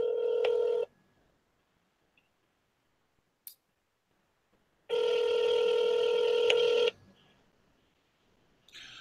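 A telephone call rings out over the line: two long steady ringback tones separated by a silent gap with a faint click, then a third tone beginning at the end, fairly loud and clean.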